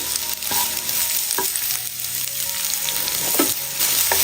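Finely chopped onion frying with ginger and garlic for a cooker samosa filling, a steady close sizzle under several distinct scraping and clinking stirs, with no talk.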